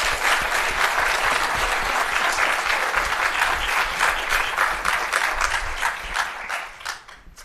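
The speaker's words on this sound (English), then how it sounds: "please give a round of applause to our panelists." Sustained audience applause for the panelists at an AANHPI leadership panel discussion, a full, dense roomful of clapping that holds steady throughout before tapering off at the end.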